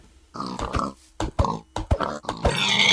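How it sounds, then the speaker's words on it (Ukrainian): Pigs in the video game Minecraft oink in a string of short, clipped grunts, several close calls spaced irregularly over a few seconds with no talk. "Ви просто гляньте, скільки тут порося."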